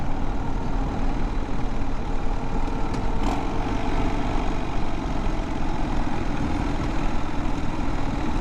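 Harley Sportster Scrambler motorcycle riding a dirt road, its engine a steady low rumble throughout, with heavy wind and road noise blended in and no voices.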